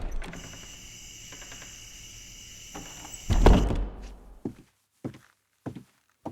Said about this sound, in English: There is someone waiting for him when he opens the door.